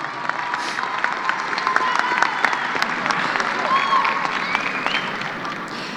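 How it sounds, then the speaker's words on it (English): A graduation crowd at the Mountain View High School 2018 ceremony applauds in a steady, dense wash of clapping that holds for the whole stretch, with a few faint voices mixed in. "if we can give a round of applause to our board members and our counselors"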